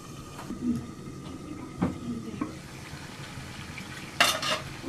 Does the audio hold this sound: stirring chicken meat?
yes